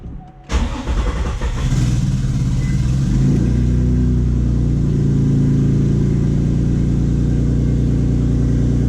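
A turbocharged Nissan 350Z engine cranks and fires up, then roars into a loud, sustained rev that holds a steady throaty rumble up close, with a possible exhaust leak.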